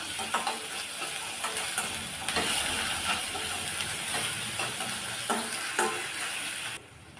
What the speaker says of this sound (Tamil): கொஞ்சம் பச்சை வாசனை போகிற அளவுக்கு நல்லா இதை வதக்கி விட்டுக்கலாம்